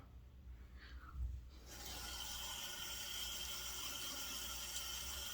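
Steady broadband rush of tap water running for a wet shave with a Good Fellas Smile Styletto safety razor and non-lathering cream, starting abruptly after quiet handling sounds and continuing evenly, close and fairly loud.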